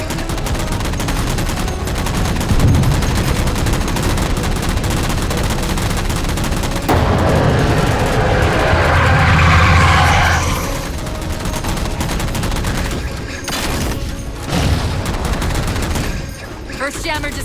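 Rapid automatic gunfire in Halo 4, sustained bursts of shooting at jammers, loud and continuous with heavier blasts mixed in, under occasional voices.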